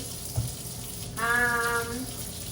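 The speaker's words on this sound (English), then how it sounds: "let me just wash my hands" A sink tap runs as hands are washed beneath it, a steady close splashing stream lasting about a second after a short knock.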